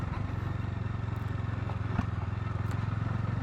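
A Bajaj Dominar 250 motorcycle being ridden, its single-cylinder engine thumping in a steady, rapid pulse with a low throb and wind rush, close up, while a rider speaks over it.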